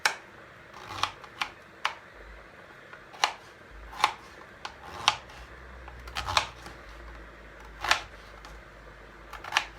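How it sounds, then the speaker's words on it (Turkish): A knife dices celery into cubes on a cutting board, making sharp, dry taps in uneven bursts, some quick and some spaced apart, close up and with no talking. "kerevizlerimi küp küp doğrayacağım"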